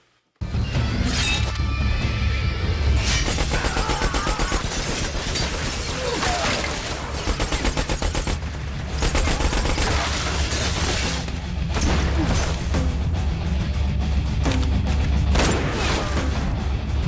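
Gunfire in the Western film Jonah Hex crashes out loudly, with dense volleys of shots, booming blasts and shattering debris layered thickly for a long stretch after a brief silent start.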